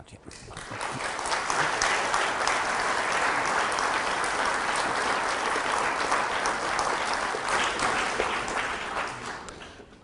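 A lecture audience applauds after a talk on evolution, the clapping swelling quickly into a sustained, even wash of many hands before tapering off at the end.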